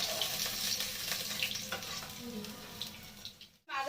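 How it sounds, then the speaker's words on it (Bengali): Eggplant frying with black cumin in hot oil after fish sizzles and crackles up close throughout, with occasional stirring scrapes, before a brief drop near the end. "তেলটার মধ্যে আমি কিছুটা কালো জিরে দিয়ে আর বেগুনগুলোকে ভেজে নিচ্ছি"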